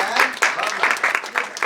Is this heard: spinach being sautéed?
no